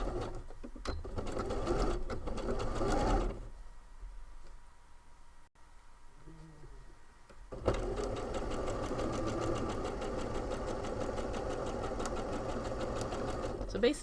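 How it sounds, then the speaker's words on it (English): Sewing machine stitching a crease into bias binding, a fast steady mechanical chatter that stops for a few seconds of near quiet, then resumes evenly at close range. "I am sewing in that little crease on the bias binding that I showed y'all earlier"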